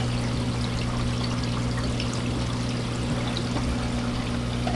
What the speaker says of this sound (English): It's got a little hole in the net there, so it does get some good water flow through it.